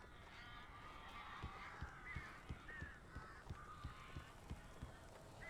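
Crows caw repeatedly in a dim scene from Alan Wake, their harsh calls faint and overlapping above a steady beat of soft footsteps or thuds.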